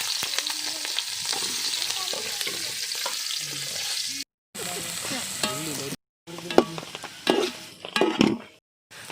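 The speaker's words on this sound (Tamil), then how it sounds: "இப்போ நாங்கள் நறுக்கி வச்சுருக்க வெங்காயத்தை இது கூட ஆட் பண்ணுறோம்." Chopped onions frying in hot oil in a kadai for a tapioca biryani, a steady broadband sizzle with stirring scrapes and clinks of a utensil against the pan, broken by two short gaps, close and moderately loud.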